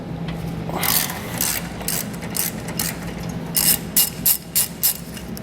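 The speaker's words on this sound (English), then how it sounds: "We'll need 18 and 21mm sockets to remove these." Socket ratchet loosening the tow hook bolts on a 2021 Ram 1500, giving rapid rhythmic clicking in repeated strokes over a steady background hum, close and loud.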